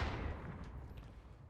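A frag rocket detonates in the military shooter game Squad, a heavy, deep boom whose low rumble rolls on steadily for over a second with no voices over it.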